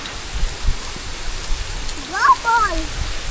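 Rain falling on a village pond on a wet day, a steady close hiss of drops on the water, with a brief voice rising over it near the end.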